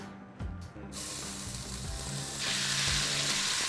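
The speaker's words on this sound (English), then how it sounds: "Hot oil into a pan. Start searing off your chicken." Chicken pieces, a mix of thighs and breasts, sear in hot oil in a pan, giving a steady broadband sizzle that grows louder partway through, with a few brief clatters near the start and no voices.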